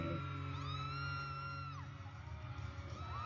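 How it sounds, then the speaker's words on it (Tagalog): Fans scream and cheer at a celebrity fan event, a dense crowd roar with rising high-pitched shrieks and whoops layered over one another throughout. "Grabe ang fans, no? Daming sumisigaw talaga"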